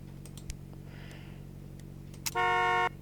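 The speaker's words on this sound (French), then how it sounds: "Bon, moi il y a le klaxon." A car horn in the Roblox game blares in one sustained honk near the end, loud and steady, after a stretch of quiet engine rumble and a few faint clicks.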